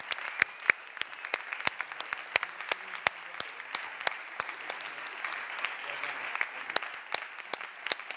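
A modest audience at a high-level panel of a European business and nature summit claps, with distinct individual hand claps spaced unevenly over a quiet room rather than a dense roar.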